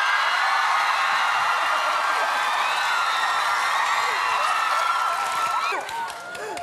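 A comedy show audience at a Korean TV gag concert applauds steadily, dense clapping with some cheers that fades slightly near the end.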